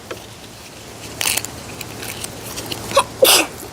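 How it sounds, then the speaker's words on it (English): A short sneeze bursts out during a plane-kit building session, with a smaller noisy burst a couple of seconds earlier, both brief against a quiet room background. "Oh, you sneezed."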